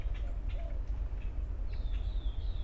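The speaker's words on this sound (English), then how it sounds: "letting you guys just hear the birds" Birds chirp and call faintly in the distance on a morning walk, over a steady low rumble, with no talking.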